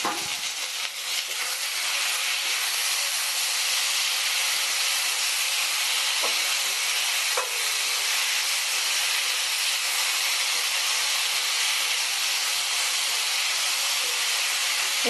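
Chopped tomato sizzles in a hot pan of frying ginger-garlic paste for a Bengali prawn and banana-flower dish, a steady loud hiss with a couple of brief crackles and no talking.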